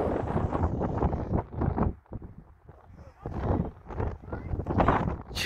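Gusty wind blows outdoors on a windy day, roaring and buffeting the microphone in loud, uneven surges that briefly die down in the middle, with faint voices underneath.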